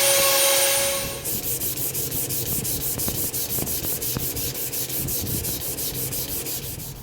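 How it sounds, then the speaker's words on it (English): Rapid back-and-forth hand sanding of wooden cutting boards, a regular rasping stroke rhythm after a brief louder noise at the start, close and steady with no talking. "I've sanded these cutting boards down to 400 grit"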